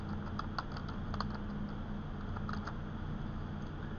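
Keys clatter on a computer keyboard in short quiet bursts of typing over a low background hum, faint and close, no voices.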